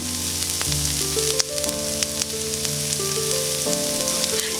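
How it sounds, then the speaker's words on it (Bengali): Rohu fish pieces frying in hot soybean oil in a pan, a loud continuous sizzle with steady crackle, close and alone, with music tones running underneath. "এবার তেল গরম হয়ে গেলে দিয়ে দিচ্ছি ভাজার জন্য মাছের টুকরোগুলোকে"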